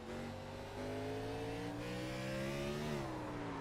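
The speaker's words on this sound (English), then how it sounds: "Yeah, so you can hear, listen to his throttle right here" Race car engine at Martinsville Speedway held at steady throttle, a loud continuous droning roar whose pitch slowly climbs, then briefly dips as the driver lifts slightly before picking up again.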